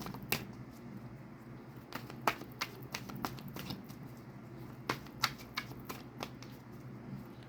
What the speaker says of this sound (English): I feel like I need to pull an extra card